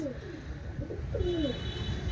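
Pigeons coo softly in low, rolling murmurs against a constant background hum, with no voices present.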